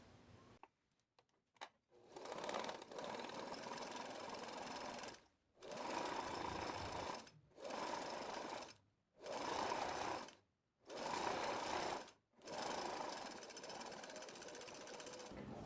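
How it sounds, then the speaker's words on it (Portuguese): A sewing machine stitches a piece of fabric in several steady, buzzing runs of a few seconds each, separated by brief pauses, close and moderately loud with no voices. "Agora vamos para a máquina costurar essa peça."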